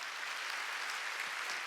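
Church congregation clapping at a Wednesday worship service, a steady dense wash of hands held at an even level through the short stretch with no voices over it.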